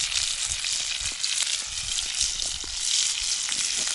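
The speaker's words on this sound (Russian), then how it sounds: "Сегодня будет жареная щука, ребята." Pike frying in oil in a pan gives a close, dense, continuous sizzle full of crackles and small pops, heard alone without voices.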